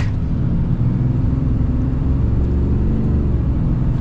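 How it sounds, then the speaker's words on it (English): A 2022 Ram 3500 Laramie Black Widow pickup under full-throttle acceleration, a loud, steady low engine rumble that holds evenly throughout with no talking. "let's get our full-blown acceleration and see if this is quick"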